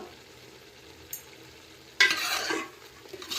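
Coriander powder being stirred into a chicken gravy in a pan: quiet at first, then a loud, close burst of sizzling and scraping that fades after about half a second, with small stirring noises continuing.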